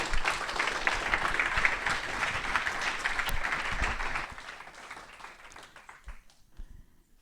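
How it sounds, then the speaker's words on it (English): A congregation in a church gives a sustained round of applause, dense clapping that fills the room for several seconds before thinning out and fading to scattered claps. "Can we give these guys a round of applause?"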